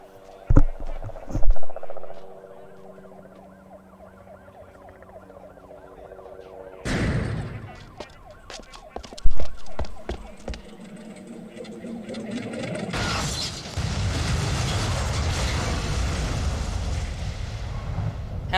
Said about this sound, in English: There's a lot of sirens.